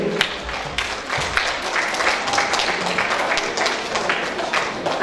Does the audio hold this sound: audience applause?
yes